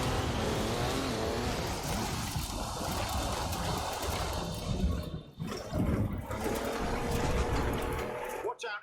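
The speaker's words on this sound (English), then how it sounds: "That's a four-wheel drive car on mud tyres, completely sideways." A four-wheel drive car on mud tyres slides sideways in Forza Horizon 4, its engine droning and revving steadily with tyre scrub, then dipping briefly before picking up again.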